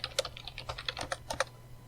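Quick, irregular keystrokes on a computer keyboard while code is typed into an R script, close and fairly quiet, with no one speaking.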